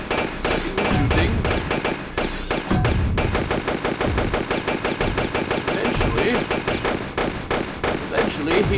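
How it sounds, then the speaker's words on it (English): Lara Croft firing dual pistols while flipping in Tomb Raider II, a dense, steady run of rapid gunshots layered over game music and effects, loud and continuous throughout. "Lara just continued flipping and shooting"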